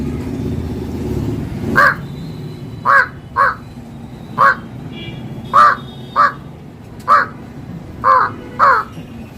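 A man imitates the harsh caw of a large jungle crow, giving about nine short, loud, evenly spaced caws over a quiet background, with no other talk.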